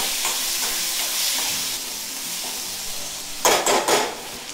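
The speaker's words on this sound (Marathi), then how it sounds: "अर्धा वाटी चण्याची डाळ आहे मी सात तास भिजत ठेवलेलं आहे ती पण चांगली तेलात भाजून घेऊया" Soaked chana dal sizzles steadily while frying in hot oil, with a spoon scraping and stirring through it and a few louder metallic clatters of the utensil against the pan near the end.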